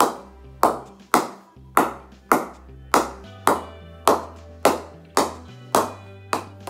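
Regular sharp knocks of a cricket ball against a new cricket bat during knocking-in, about a dozen crisp wooden taps spaced roughly every half second, close and clear with no talk.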